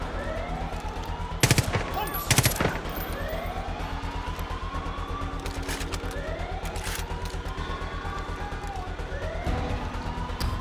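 SMG gunfire from a close-range submachine gun in Far Cry 5 rattles in two short sharp bursts amid wailing police-style sirens that sweep up and down, with a few more scattered shots later.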